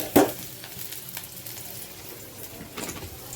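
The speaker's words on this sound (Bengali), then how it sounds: "এখন কোনো রকম ঢাকনা দিয়ে ভাজি করে নেব" Onions with salt fry in a pan under a lid, giving a soft, steady sizzle with a sharp clatter at the start and another utensil knock near the end.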